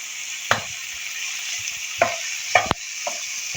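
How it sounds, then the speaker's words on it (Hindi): Chana dal stirred into hot spice masala in a pan, a steady frying sizzle broken by a few sharp scrapes and clinks of the spoon, close and moderately loud with no talking. "इसको भी हम मिक्स कर लेंगे और मसाले में हम इसको भी साथ में फ्राई कर लेंगे अच्छी तरह से करेंगे।"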